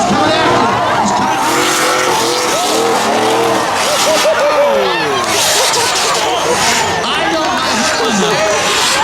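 Pickup trucks launching off the line in a spectator drag race at Beech Ridge's Day of Destruction, engines roaring loud and continuous with some tire noise, under steady crowd chatter and an announcer's voice throughout.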